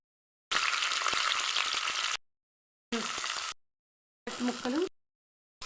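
Vegetables sizzle and fry in hot oil in a pan during breakfast cooking, heard as three separate loud bursts of crackling broken by short silences, with no one talking.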